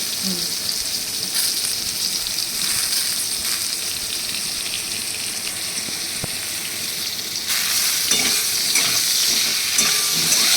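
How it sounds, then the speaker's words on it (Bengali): Oil sizzles and crackles steadily as eggplant fries in a pan, with a brief clink of a utensil and the sizzle growing louder toward the end. "এবার এগুলোকে ভালো করে ভেজে আমি তুলে নেব।"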